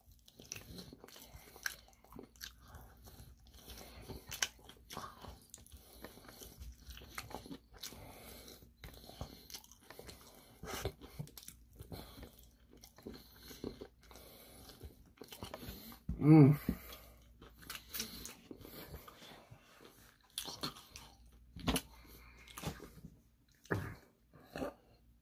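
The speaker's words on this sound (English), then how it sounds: "Some ASMR crunchy noises." Crunchy bites and chewing of Korean fried chicken, sharp crackling crunches repeating irregularly up close, with one loud bite standing out, between quieter chewing.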